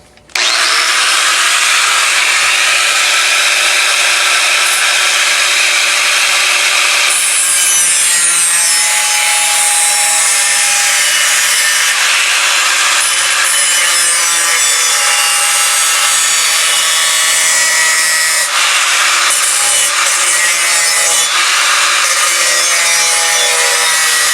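Cutting out the wheel well opening of a Jeep rear corner panel with a power tool that throws sparks, a loud, steady, high-pitched grinding whine running the whole time with slight changes in pitch and no talk.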